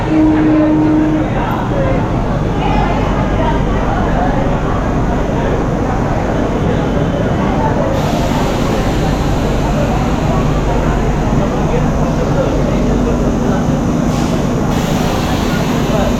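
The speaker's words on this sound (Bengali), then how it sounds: "এই ট্রেনটা এর পরের স্টপেজ দেবে রানাঘাট কাঁচরাপাড়া" An air-conditioned local train runs between Sealdah and Ranaghat in West Bengal, heard from inside as a loud, steady rumble and roar that stays constant throughout without pause.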